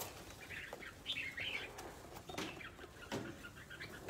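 Small birds chirp in scattered bursts while wings flap briefly, all fairly faint with a soft background hiss.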